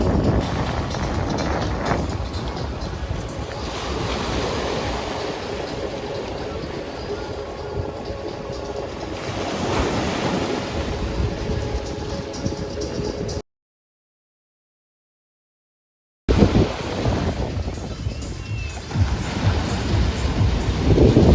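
Ocean waves and blustery wind on the beach at Playa del Carmen, with a broad roaring wash, heavy wind buffeting on the microphone and a brief silent gap partway through.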